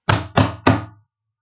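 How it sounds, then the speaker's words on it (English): Three firm knocks on a wooden door, evenly spaced and loud, each a hollow thump that fades quickly, followed by silence. "Banging on a door effect. Knocking on the door. Banging hardly on the door."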